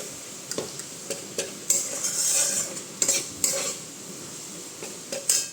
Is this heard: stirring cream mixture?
yes